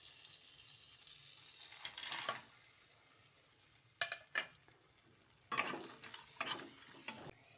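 Cashews, raisins, crushed cardamom, cinnamon and cloves frying in butter in a pan, soft sizzle with several bursts of stirring and scraping, spaced irregularly, fairly quiet overall.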